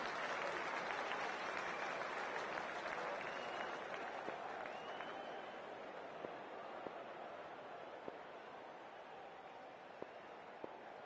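Steady, dense applause and crowd noise fill a cricket stadium as players walk out for a T20 World Cup match between Sri Lanka and Zimbabwe, forming a broad, continuous roar with scattered sharper claps.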